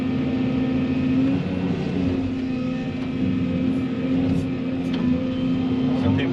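A truck engine idling outdoors at a land clearing job, a steady low droning hum with a constant tone, moderately loud and continuous, with some wind-like noise over it.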